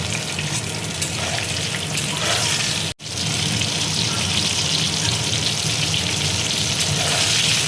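Pointed gourd (potol) frying in hot oil for a vegetarian potol dish: a steady, loud, bubbling sizzle continues throughout, broken by one sharp cut near the three-second mark.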